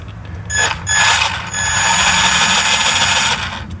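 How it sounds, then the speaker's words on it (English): Steering servo of a 2017 Traxxas 4-Tec 2.0 Ford GT RC car whirring through its travel, a loud close electric whine in two bursts, the second sustained for about two seconds before cutting off. "Servo speed. That's pretty slow."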